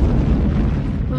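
A volcano eruption effect in a preschool puzzle game: a short, loud, deep rumbling boom filling about a second.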